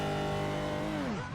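A Porsche Cup race car in a sim racing game holds a steady, loud engine drone at launch control revs. Near the end the pitch sweeps down and climbs again as it pulls away, and no one speaks.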